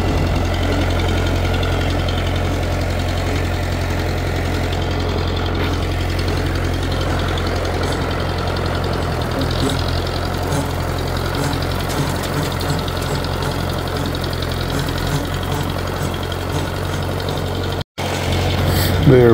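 A 1960 diesel tractor with a front-end loader idles steadily and close by, with a rough, knocking rumble. The sound runs without a break except for a momentary dropout near the end.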